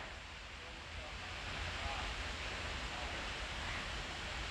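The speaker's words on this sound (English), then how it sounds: "What you can hear is rushing water, and that's because the North Woods actually has a couple of waterfalls." Steady rushing water from small waterfalls in the wooded North Woods section of Central Park, a continuous broadband wash at moderate level with no traffic audible, swelling slightly partway through.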